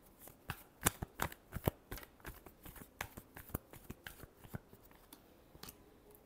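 A deck of tarot cards is shuffled by hand in a quiet room, giving a quick run of soft crisp riffles and taps close up, with no voice.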